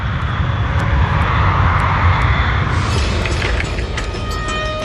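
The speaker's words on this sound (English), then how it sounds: "Avianca 52 takes off from Medellin with its maximum allowable fuel load" An Avianca airliner heavy with its maximum fuel load takes off from Medellín, its engines a loud, steady roar that holds throughout with a broad rumbling low end and a faint rise in whine partway through.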